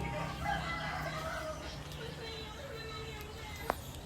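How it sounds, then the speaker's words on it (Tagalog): Native roosters crowing on a farm in a rainy area, long strained calls rising over constant background noise, with a person talking nearby. "medyo marami na po yung ating mga lalaking native chicken"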